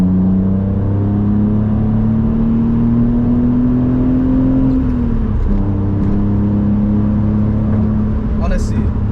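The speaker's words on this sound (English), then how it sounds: "driving a naturally aspirated car with a manual gearbox, and you're just changing through the gears" A BMW 330Ci E46 with a naturally aspirated engine and manual gearbox revs loudly and climbs in pitch, drops briefly as it shifts gear, then pulls again with a droning, steady tone.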